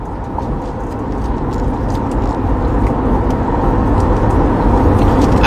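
Car interior road noise while driving, a steady low rumble and hiss that swells slightly, with no talking.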